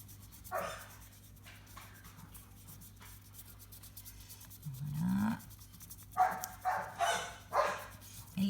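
A macaw imitates a dog's yapping from behind an outdoor enclosure's grille, a voice copying barks as several short, sharp, fairly loud yaps in quick succession near the end.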